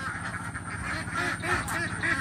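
Laying ducks shut in a locked pen quack repeatedly and fairly loudly, many calls overlapping into a continuous noisy chorus.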